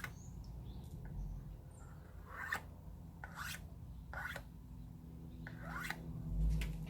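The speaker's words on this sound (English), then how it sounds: "scrape some of that white off" A tool scrapes white acrylic paint across a fresh pour in a few short, faint rasping strokes, spaced apart over a steady low background hum.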